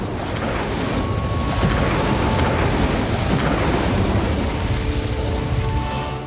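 The Incendio fire spell in Hogwarts Legacy roars as a sustained, loud whooshing blaze, with dense rumbling flame noise and scattered crackles held steady for several seconds in a game scene.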